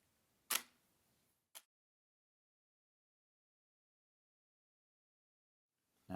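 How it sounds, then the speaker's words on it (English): Single-lens reflex camera dial clicked while adjusting shutter speed: one sharp close click, a second smaller click about a second later, then a long silence before another click at the very end. "as I change my shutter speed, I'm clicking it to the right"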